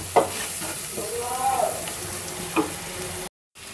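Ground coriander, chili, turmeric and salt being mixed in a sizzling pan, a steady fry with a few scraping strokes of a spoon that stops abruptly near the end.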